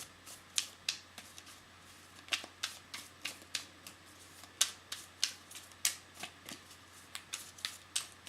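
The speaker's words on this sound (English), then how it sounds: "I won't take up too much time shuffling" Tarot cards are shuffled by hand in a quiet room, giving a steady run of crisp riffling snaps and flicks, close and fairly soft over a low background hum.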